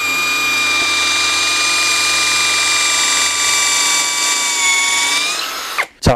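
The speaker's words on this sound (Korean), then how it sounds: "자, 이번에는 드릴 드라이버로도 한번 뚫어볼게요." A cordless drill driver fitted with a universal drill bit bores through wood, its motor whining at a steady high pitch for several seconds before winding down, with a brief burst of noise as it finishes.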